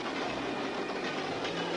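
A train runs along a railway line, its steady broadband rumble and faint wheel clatter heard up close and continuously without any voices.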